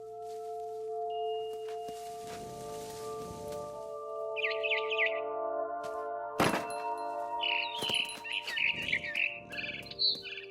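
Barn swallow in the video game What Remains of Edith Finch, chirping in short clustered bursts over a low ambient drone, interrupted by a loud thunk and a few scattered knocks.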